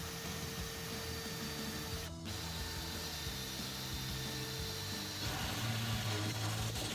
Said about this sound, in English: I'm going to drill a small hole either side of the center vent hole